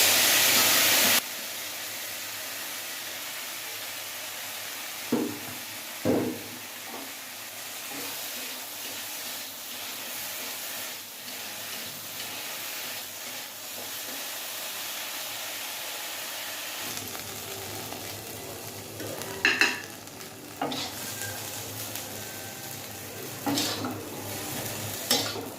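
Okra frying in a pan in a Bengali home kitchen: a steady, close sizzle with scraping stirs and occasional sharp clinks of a utensil against the pan.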